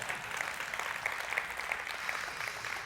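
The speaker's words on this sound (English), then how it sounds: "Come on now, you're clapping for yourself." Congregation at a church service applauds on cue at the start of a sermon, a steady, fairly faint wash of many hands clapping with no voices over it.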